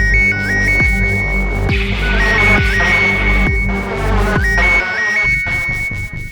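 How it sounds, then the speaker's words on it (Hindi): A mobile phone ringtone plays loud and close, a bright electronic melody with repeating chiming phrases and a steady beat running the whole time, with no one speaking. "लो, फोन आ गया।"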